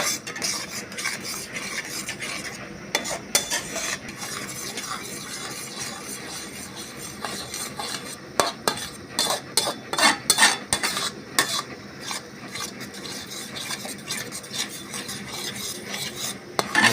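A spoon scrapes and stirs payasam in a metal pot, a steady rasping, clinking scrape that continues close up throughout, with occasional sharper knocks against the pot.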